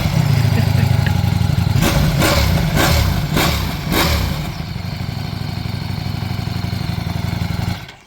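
An Italian Ducati motorcycle with its stock exhaust running close by, a loud steady idle with a burst of several quick throttle blips before settling back to a continuous rumble.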